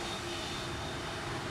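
Steady, loud jet engine roar from a Boeing 757-200 taxiing quickly in the X-Plane 11 flight simulator, a continuous broadband rumble with a faint whine over it, with no speech.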